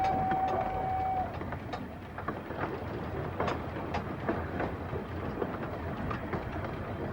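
A 2-foot narrow gauge train on the Bala Lake Railway in Wales rumbles steadily along with a rattling clatter of wheels on track, a brief high whistle-like tone near the start.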